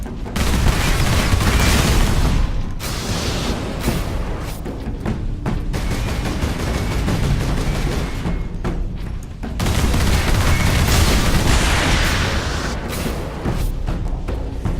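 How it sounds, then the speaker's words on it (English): Charged plasma pistol shots fire again and again in Warhammer 40,000: Space Marine amid dense battle noise, with loud booming bursts, chattering gunfire and a brief lull partway through. "they take several charged plasma pistol shots to kill"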